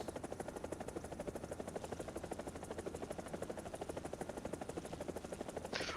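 Ka-50 coaxial-rotor attack helicopter in the War Thunder video game, a rapid, even rotor thumping with engine whine, steady and moderately loud for the whole stretch.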